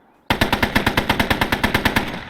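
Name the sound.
50 caliber machine gun on Sherman tank, Call to Arms video game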